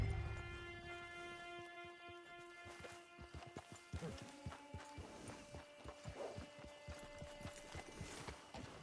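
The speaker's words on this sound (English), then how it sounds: "Get your horse." Horse hooves clip-clop steadily on the ground in the Red Dead Redemption video game, arriving at a camp, with the pace quickening partway through over sustained background tones.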